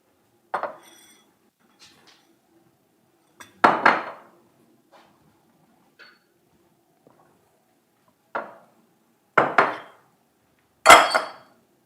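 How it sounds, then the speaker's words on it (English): Stirring a martini with a spoon: sparse, sharp metal-on-glass clinks and short rattles come in isolated bursts, louder near the end, with quiet gaps between them. "We're gonna stir it, because it is a martini after all"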